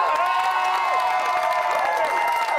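A game-show studio audience claps and cheers steadily for two contestants, a dense, loud wash of applause with whoops and excited shouts over it, holding throughout.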